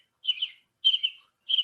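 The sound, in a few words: American robin song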